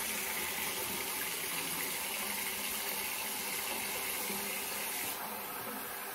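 Tap water runs steadily and loudly into a sink, a continuous close gush that shifts slightly in tone near the end, with no voices over it.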